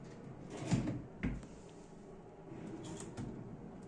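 Bathroom cupboard doors and a drawer beneath them opening or closing in a water-damaged bathroom being cleaned, two soft close thumps near the start and a quieter pair later, against low room noise.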